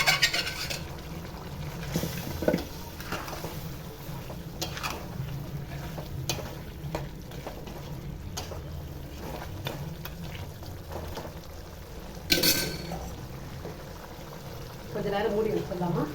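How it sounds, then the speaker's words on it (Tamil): Chunks of mutton go into a pot of water already simmering on the stove for a mutton chukka, giving a steady bubbling and sizzling boil throughout with a brief louder splash near the end. "இப்போ மட்டன் அதில் போட்டுக்கலாம்."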